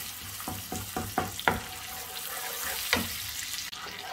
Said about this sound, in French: On va faire fondre ce beurre là.